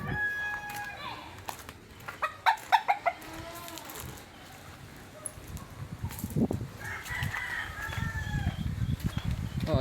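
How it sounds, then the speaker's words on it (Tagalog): Chickens cluck and chatter in a backyard in Cabanatuan City, with a string of quick rhythmic clucks, and people talk nearby over background noise. "Manok namin dito."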